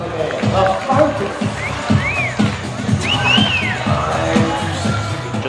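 A crowd at a corporate cycling pursuit time trial cheers, whoops and whistles in rhythmic bursts at moderate distance, with a commentator talking over the noise.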